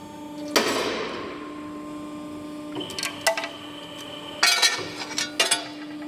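A Geka Pentacrop hydraulic punching machine runs with a steady electric hum, broken by several sharp metallic clanks and punching strokes that come in small bursts, close by and with no speech.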